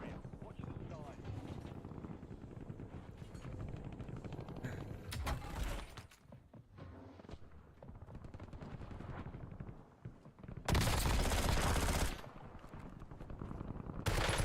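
PPSh submachine gun fire in a Warzone match, several loud rapid bursts with one long sustained burst near the end, mixed with game noise and a voice talking throughout.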